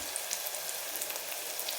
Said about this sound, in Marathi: 1 मिनिट फक्त परतून घ्यायचं आहे, वितळून घ्यायची नाही आपल्याला.